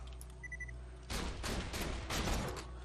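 Hellfire gun in Borderlands 2 fires a rapid burst of close, loud shots lasting under two seconds, in a few pulsing volleys, after a short beeping game tone.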